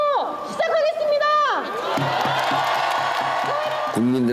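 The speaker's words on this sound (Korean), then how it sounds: "함성으로 시작하겠습니다!" A large crowd at a Korean rally marking democracy's defense against martial law cheers and shouts, with whoops and bellowing voices rising and falling across the whole span, loud and dense.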